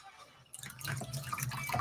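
Water splashes and trickles as a wet marbled fabric scarf is lifted out of a tray of marbling bath, a sudden burst of dripping and pouring after brief quiet, close and steady.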